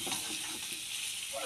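Pre-fried potatoes being stirred into a pan of braised meat, giving a steady, fairly soft sizzle of hot oil with faint scraping underneath that carries on without a break.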